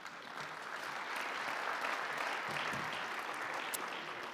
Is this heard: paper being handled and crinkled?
no